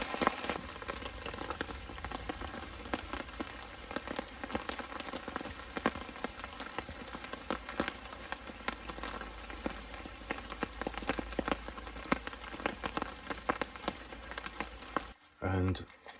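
Steady rain patters on a tarp and leaves at a hammock camp in woodland, a dense continuous crackle of close drops with brief louder taps, while someone speaks quietly.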